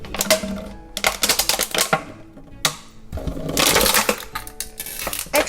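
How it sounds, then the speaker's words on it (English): A household plastic crusher in a Japanese home crushing plastic, with loud bursts of crackling, rattling mechanical noise in two main runs separated by brief pauses, heard up close. "This is, for example, to crush plastic."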